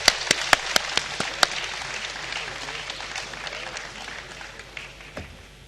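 Audience at a vice-presidential debate session gives applause that opens with several loud, sharp claps and then settles into a softer, steady patter fading toward the end.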